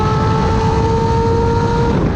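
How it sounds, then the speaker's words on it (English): A Honda inline six-cylinder motorcycle engine runs steadily at high revs, a smooth, loud, continuous whine with a sustained tonal drone throughout. "It makes one of the best sounds of any motorcycle ever made."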